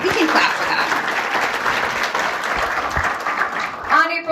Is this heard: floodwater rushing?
no